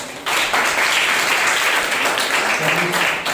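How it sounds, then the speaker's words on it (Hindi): A church congregation at a Sunday morning service bursts into applause, with dense, steady clapping filling the room that holds loud throughout and eases slightly at the end, and some voices mixed in. "कलीसिया जोरदार एक ताली बजा सकते।"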